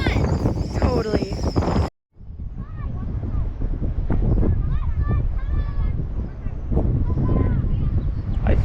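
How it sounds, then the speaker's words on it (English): Strong wind at Wall, South Dakota buffets the microphone in a loud, continuous low roar with gusts, with a brief drop near the start, while a person talks throughout. "It is so darn windy."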